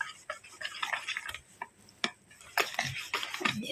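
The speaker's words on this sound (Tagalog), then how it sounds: "Ang ating leftover na bread. Dami. Yan, then mix it well." Leftover bread being mixed for pudding in a bowl, with irregular clinks, scrapes and wet stirring knocks of a utensil against the bowl, close and moderately loud, no talking.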